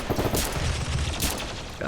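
Gunfire from a colony siege in Rimworld: dense, rapid bursts of weapon fire, including plasma gun and heavy rifle shots, crackling continuously and loudly throughout with no pauses.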